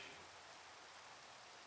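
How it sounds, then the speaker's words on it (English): Rain falling in the Minecraft video game, heard as a steady, very faint hiss of drops with no change in level and no voices. "And it's starting to rain."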